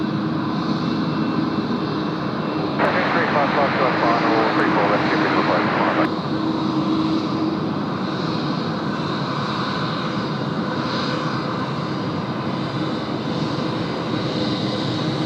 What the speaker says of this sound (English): Airbus 1 down to runway 34 left, clear for immediate takeoff.